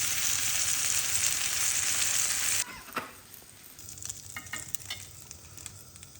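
Sole fish frying in butter in a pan, a loud hissing sizzle that drops off sharply after a few seconds, then quieter crackling with scattered clicks and pops.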